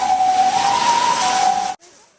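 Loud emergency sirens wail in Kyoto on a day of heavy rain, a close steady tone holding for under two seconds before cutting off abruptly, leaving faint hiss behind.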